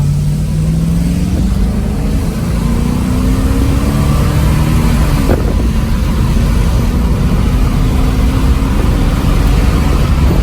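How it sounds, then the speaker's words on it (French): A Mercedes 450 SLC accelerates hard, its engine note climbing steadily in pitch as it revs up, loud and close with continuous road and engine noise throughout. "On va essayer de faire une petite accélération, voir ce que ça donne."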